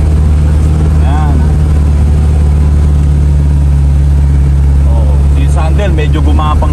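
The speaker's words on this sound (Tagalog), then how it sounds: "Galitin mo makina. Hindi ka pwede magdahan-dahan dito." Vehicle engine pulls in first gear on a light off-road dirt trail in Bulacan, giving a loud, constant low drone throughout with voices talking over it.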